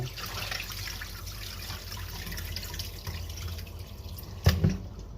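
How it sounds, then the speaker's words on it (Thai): Water trickling and dripping in a sink as soaked sticky rice is rinsed for the second time, a steady close wash with a brief louder splash near the end. "อันนี้น้ำเป็นล้างน้ำครั้งที่สอง"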